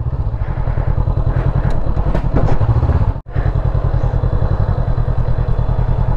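A Honda CB500X motorcycle rides under a bridge in Sangkhla Buri, Thailand, with a loud, steady, throbbing engine drone close by that cuts out for a brief instant midway, then resumes.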